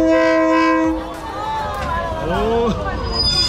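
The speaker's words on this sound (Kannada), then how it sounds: "Correct any time ಬಂದ್ಬಿಟ್ಟಿದ್ದಾನೆ train." A train pulls into a Thailand railway track market, its horn blaring steadily at first, then squealing wheels and rumbling carriages as it slows, with a crowd murmuring underneath.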